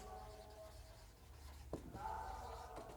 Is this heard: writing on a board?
yes